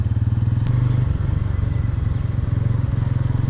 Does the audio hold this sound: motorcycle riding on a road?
yes